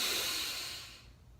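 A slow, deep inhale during a breathing exercise makes a close, airy hiss that starts strong and fades away within about a second.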